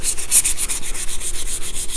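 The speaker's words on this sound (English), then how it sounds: "Now you can see that I'm just using sandpaper," Sandpaper rubbing in steady rapid strokes along the edge of wood grain vinyl wrap on a 10 ft beam, close and fairly loud, with no voices.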